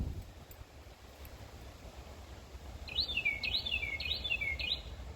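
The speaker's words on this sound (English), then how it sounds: "Oh, Danny, it's the weed eater bird." Outdoors at a logging and sawing site, a bird gives a run of four quick, sharp descending chirps in the latter half, fairly clear above a low rumble and steady wind noise.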